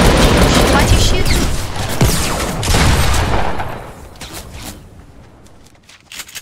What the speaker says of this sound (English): Is there a guy shooting at you? Why are you fighting them?